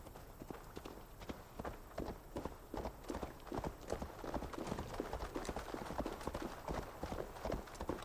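Horse hooves in Assassin's Creed Valhalla, a continuous quick clip-clop of a trotting horse, fairly faint and steady over several seconds with no voices.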